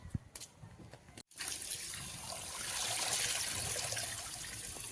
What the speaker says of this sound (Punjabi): ਚਲੋ ਜੀ ਆਪਾਂ ਨਾ ਸਾਗ ਧੋ ਦਈਏ